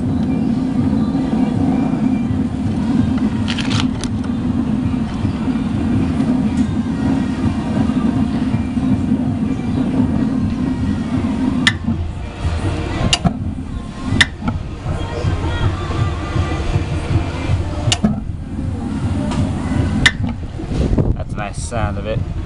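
A Coleman water heater running, giving a steady, loud low rumble and hum throughout, with someone talking over it at times and faint music in the background.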